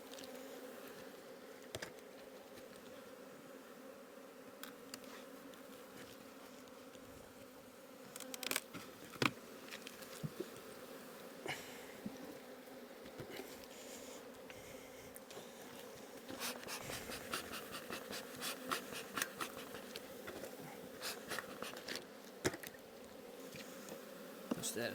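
Honey bees buzz steadily from an open hive during a split, a constant close drone broken by light knocks and handling of frames.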